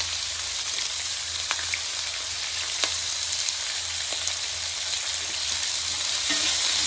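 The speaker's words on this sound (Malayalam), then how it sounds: "ഇതിൻ്റെ കളറൊന്നും മാറുന്ന വരെ ഇളക്കുക. നന്നായിട്ട് വഴറ്റി ബ്രൗൺ ഒന്നും ആവണ്ട, കുറച്ച് കളർ മാറിയാൽ മതി." Onion, green chili, ginger, carrot and curry leaves sautéing in a pan for hotel-style masala dosa filling, a loud continuous sizzle with faint occasional stirring ticks and no talk.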